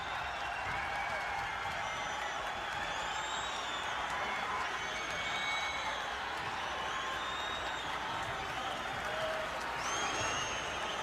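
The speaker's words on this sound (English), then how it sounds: "Micky Ward has sent this crowd into a frenzy with as powerful a performance as we've seen from him" A boxing arena crowd roars and applauds after a knockout, with a sustained wall of cheering and clapping throughout and a broadcast commentator's voice faintly mixed in.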